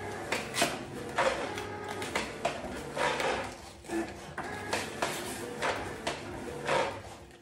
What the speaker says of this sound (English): You can hear me over the Cricut machine.